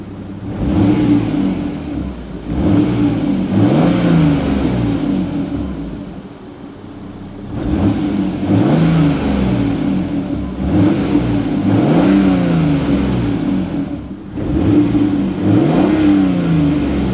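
A 1998 Toyota Supra Turbo engine revs repeatedly, each deep, mellow rising roar falling back to idle between blips, close and loud with no talking.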